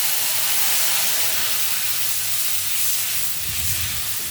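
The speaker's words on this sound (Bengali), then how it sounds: "ফোড়নটা হয়ে গেছে, এখন আমি জল দিয়ে দেবো।" Water poured into hot tempering oil in a pan for a hilsa fish curry, a loud continuous hissing sizzle that holds steady and close throughout.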